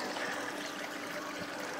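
Water from a battery-powered 1250 bilge pump runs through a DFS sluice box, making a continuous, fairly soft rushing and trickling flow with no speech.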